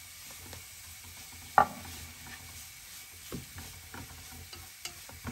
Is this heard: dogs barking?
no